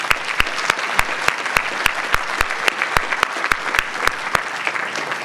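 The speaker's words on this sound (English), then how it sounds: "Let's give them a round of applause." An audience at a Law Day court session at Montana State University in Bozeman claps steadily, the individual claps close, sharp and dense, sustained throughout without voices.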